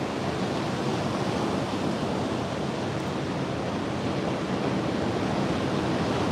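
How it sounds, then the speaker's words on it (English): Rough ocean surf roars in a steady, dense wash of noise, loud and unbroken, with wind buffeting the microphone and no voices. "You guys want to see what the ocean looks like right now?"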